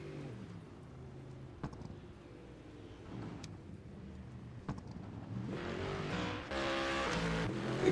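Race car in a DTM racing video game spinning donuts, a steady engine drone that swells into louder revving with tire squeal building toward the end, heard without talk.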